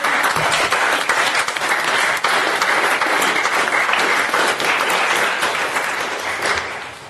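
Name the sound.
applause for Peter Dunn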